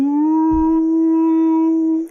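A human voice imitating a whale call, a single sustained, loud, mournful tone held steadily for about two seconds with a slight rise at the start.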